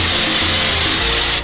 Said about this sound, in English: Just gonna go into some canola cooking spray. Give that a shake. Just gonna spray a bit on there lightly.